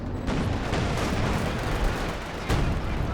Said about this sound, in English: Looks like the howitzer on counter barrage going after the Zis now, after using its barrage.